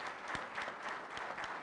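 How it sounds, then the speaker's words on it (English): Brief, faint applause from a conference audience at a panel session, scattered clapping heard at a distance for under two seconds. "I would like to ask for a round of applause for each of them"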